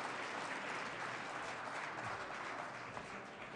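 Steady, dense applause from an awards reception audience fills the room, sustained and even throughout with no individual voices standing out.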